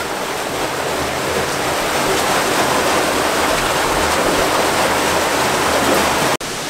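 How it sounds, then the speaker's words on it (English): Big waterfall at an abandoned dam, a steady, loud, broadband roar of falling water filling the whole clip, with a brief dropout right at the end. "We're coming up to the top of the big waterfall now."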